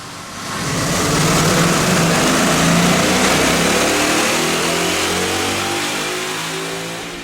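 A 2011 Ford Mustang GT 5.0 fitted with BBK headers and an after-cat X-pipe revs hard on a dyno, its engine climbing in a loud, sustained sweep that builds and then slowly eases off, with no talking.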